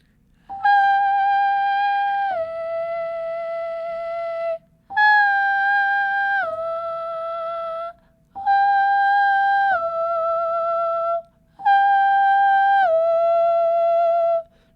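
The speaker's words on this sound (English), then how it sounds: "if I just did this very lightly in my whistle voice, it would sound like this." A light, very high whistle-register singing voice holds four sustained notes, each stepping down in pitch partway through, separated by short silences, clean and close with no background.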